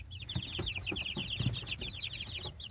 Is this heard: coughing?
no